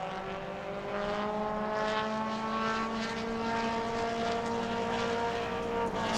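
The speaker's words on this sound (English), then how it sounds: "So here comes that 95, Ernie Winton." A modified mini race car, number 95, roars past steadily during qualifying at New Smyrna, its loud sustained engine drone filling the whole stretch with no one talking.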